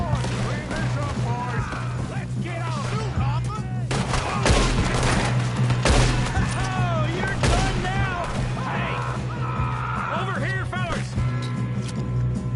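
Shootout gunfire in Red Dead Redemption 2, repeated sharp shots and louder blasts scattered through, with shouted voices and talk mixed in over a constant low hum.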